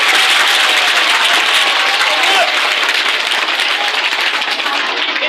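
An audience at a magic show applauds, with dense, loud clapping from a crowd that holds steady for several seconds and fades slightly toward the end.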